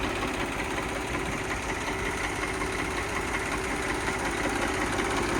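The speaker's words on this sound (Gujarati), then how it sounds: "Eicher tractor 333" An Eicher 333 tractor engine idles in a steady, even diesel drone with a faint rhythmic knock, running alone without pause and with no voices.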